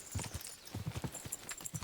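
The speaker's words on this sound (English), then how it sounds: "I just feel like I'm actually riding the horse more than just sitting on it" Horse hooves clip-clop steadily while riding in Kingdom Come Deliverance 2, a quick, even rhythm of soft thuds at moderate volume, heard alone without talk.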